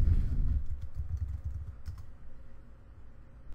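Keys clatter on a computer keyboard as someone types into a lookup search box, a brisk run of soft, close taps that is densest at the start and then thins to scattered strokes, with no one speaking.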